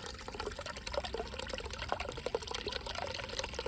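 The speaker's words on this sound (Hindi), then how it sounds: "जमीन के अंदर से पानी आ रहा है" Natural spring water flows and trickles steadily from the ground throughout, a continuous gurgling stream heard close by with no voices, near the Narmada River.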